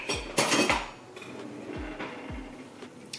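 A big spoon clinks and scrapes in a bowl of brownie mixture, a few sharp metallic knocks and taps spaced out over a couple of seconds, close and fairly loud with no talking.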